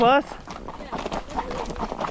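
Hooves of a young horse walking on a trail ride, soft irregular clip-clop steps close by, with a brief whinny-like tonal sound at the start and riders talking over it.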